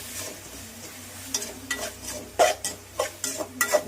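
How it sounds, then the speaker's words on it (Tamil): Tomatoes with turmeric sautéing in a pan for garlic pepper kuzhambu: a soft sizzle underneath, broken by several sharp scraping stirs of a spoon against the pan, close and fairly quiet. "தக்காளி நல்லா வதங்கணும். கொஞ்சம் நேரம் வெயிட் பண்ணுவோம் நல்லா வதங்குற வரைக்கும்."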